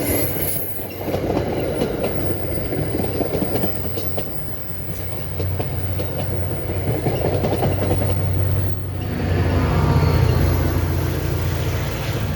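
A passenger train led by cab car 6014 with GP40PH-2B locomotive 4216 rolls past close by: a steady loud rumble of wheels and carriages, with rhythmic clicking over rail joints and a faint squeal, growing heavier near the end.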